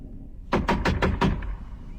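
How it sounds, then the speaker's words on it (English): In a horror video game, a rapid series of five loud knocks lands on a door, close and sharp, then fades into quiet room tone. No one speaks. "Something is knocking."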